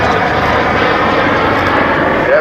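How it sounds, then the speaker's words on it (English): An F-16 fighter jet passes by close and loud, a broad continuous roar of engine noise filling the whole moment without letting up. "As this plane flies by, if you look at the tail where the exhaust pipe is on this aircraft"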